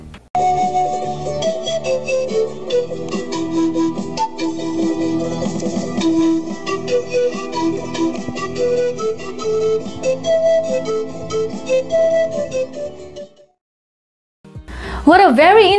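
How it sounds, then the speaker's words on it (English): Breathy melody on a siko, the side-blown Andean cane flute, carrying over a full ensemble with steady rhythmic backing, playing continuously before a brief pause and a short new passage. "Siko is a side-blown cane flute that is played all year round."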